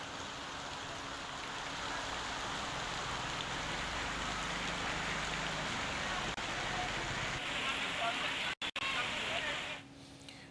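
Steady rain falls in Varanasi, a dense, even hiss of drops on surfaces that holds at moderate level throughout, with no voices over it.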